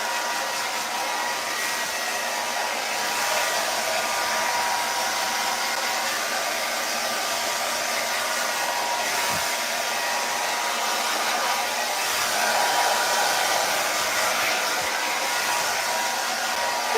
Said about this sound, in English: when I know I'm finished with the hair dryer